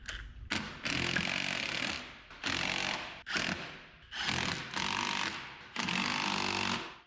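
Lug nuts on the wheel of a custom 1974 Chevrolet C10 shortbed shop truck are driven tight with a power tool in about six loud, rattling bursts separated by short pauses.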